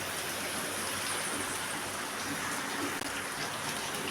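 Chopped onion and garlic frying in a pan give a continuous, even, rain-like sizzle that holds steady throughout with no voices.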